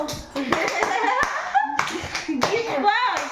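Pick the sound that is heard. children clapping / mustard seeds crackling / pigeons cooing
children clapping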